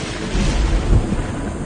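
Thunder sound effect, a short deep rumble swelling briefly to a low boom before fading into a dull roar.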